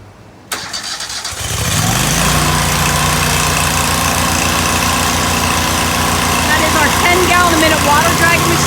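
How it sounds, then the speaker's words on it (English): A Water Dragon 10 gpm pressure washer with a Kohler engine cranks and fires up, then settles into a loud, steady running drone with a constant hum, close to the listener. "Water dragon machine with Kohler engine."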